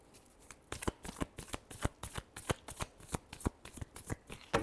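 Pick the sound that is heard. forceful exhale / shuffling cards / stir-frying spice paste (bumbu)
shuffling cards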